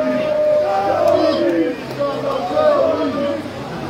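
Croatian national team fans marching along Marmontova Street in Split toward Poljud stadium with flares lit, chanting in a loud, rolling crowd chorus that rises and falls in waves.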